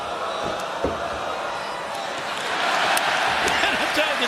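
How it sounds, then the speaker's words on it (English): Sellout wrestling crowd in a Cardiff arena cheering and roaring, swelling louder toward the end, with sharp slams from the ring and a commentator talking over it. "What a great crowd response we have had here in Cardiff"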